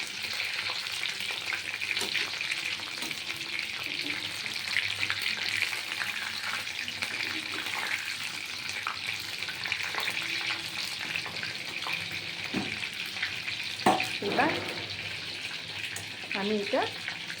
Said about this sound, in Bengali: দেখছেন তো কেমন সুন্দর ভাজা হচ্ছে